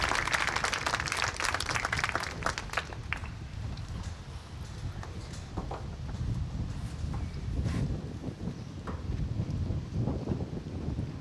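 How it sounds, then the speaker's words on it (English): Applause at a graduation ceremony comes as a dense, crackling wash of many clapping hands, loud at first and then thinning into scattered claps over wind noise on the microphone. "can we get one last round of applause for everyone?"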